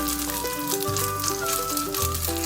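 Steady sizzling of a tofu chijimi pancake frying flat in a hot pan, a continuous crackling hiss beneath background music.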